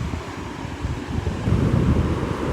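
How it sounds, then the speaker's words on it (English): Strong wind buffets a microphone by the sea on Tenerife, a steady rumbling roar that swells louder in the second half, with the surf blending into the gusts and no voices. "I'm sorry about the windy sound"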